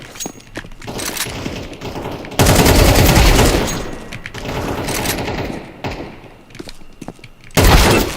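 Rapid bursts of automatic gunfire from the video game Counter-Strike 2 in several loud volleys, with sharper single shots and quieter gaps between them.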